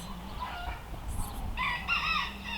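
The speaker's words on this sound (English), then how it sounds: "The rooster volley. We'll crow, then you crow, then we'll crow, then you crow." Faint rooster crows come from a distance, one short call followed by a louder, longer one, over a quiet outdoor background.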